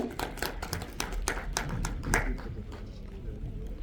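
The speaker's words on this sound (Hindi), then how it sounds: "चाहती हूँ जोरदार तालियां हो जाएं" Scattered audience applause at an event: sparse, irregular hand claps, fairly quiet, with voices talking alongside.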